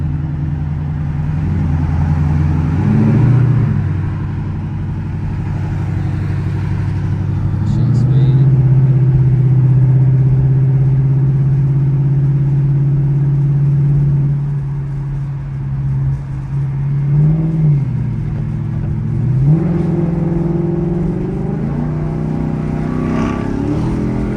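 A Ford Mustang GT V8 engine drones and rises under hard pulls on a freeway, a deep steady exhaust rumble that swells in pitch during acceleration, with someone speaking over it.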